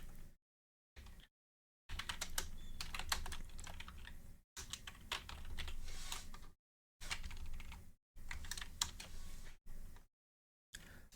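Bursts of typing on a computer keyboard while setting up a game mode in Arma Reforger, quiet close key clatter in several short runs separated by silent gaps.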